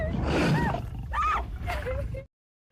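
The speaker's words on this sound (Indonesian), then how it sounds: "Ternyata Laleti sedang dihampiri seekor singa" A lion in an animated story gives three drawn-out roars and growls in succession, loud and close, then cuts to silence.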